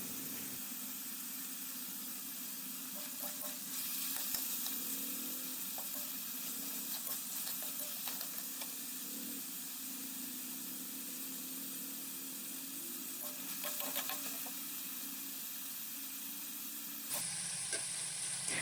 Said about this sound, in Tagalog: Halo-haloin lang natin yan hanggang sa maluto ng bahagya ang chicken.